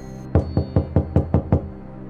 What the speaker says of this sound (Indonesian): Sebuah ketukan dan panggilan terdengar dari luar kamar.